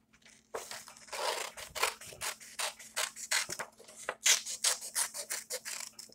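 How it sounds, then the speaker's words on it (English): Scissors snipping through paper as heart shapes are cut out for a prairie dog craft, a steady run of short crisp cuts and crunchy rustles, close and fairly quiet with no talking. "using your scissors, as we cut along the line, we're going to turn our paper to make it easier"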